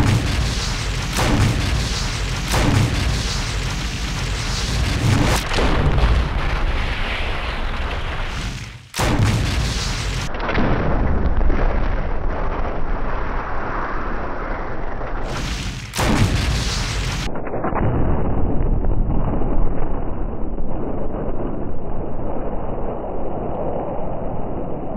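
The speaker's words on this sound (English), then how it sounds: "Alright, and finally, incendiary shells." Incendiary shells fired in the Resident Evil REmake game: a sequence of heavy booming shots and fiery explosions, loud and close, each blast followed by a sustained roaring burn, with brief pauses between shots.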